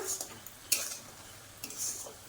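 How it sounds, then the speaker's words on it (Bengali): A spoon stirring a sticky coconut laddu mixture with cardamom in a pan, a few separate close scrapes and clinks against the metal, fairly faint with quiet gaps between strokes. "একভাবে নাড়াইতে হবে, বন্ধ দিলে হবে না, বন্ধ দিলে তলায় লেগে যাবে।"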